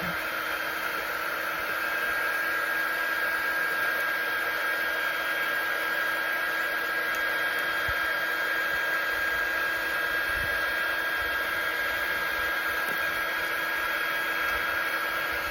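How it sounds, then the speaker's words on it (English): Steady broadband blowing hiss of a heat gun warming decals on ceramic tiles, constant and close, running unbroken with no talk. "heat gun to warm it up, and then it'll peel off"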